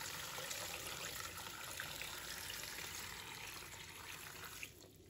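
Clean tap water pours steadily into a basin holding three slender eggplants, a close, continuous splashing gush that holds its level for about five seconds before easing slightly at the end.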